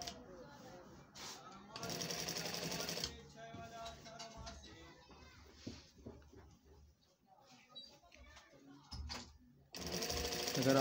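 A sewing machine runs an edge seam on a double-stitched garment in short rattling bursts, with pauses between runs. A voice speaks during the quieter gaps.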